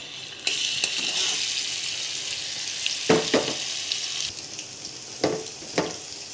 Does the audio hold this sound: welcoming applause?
no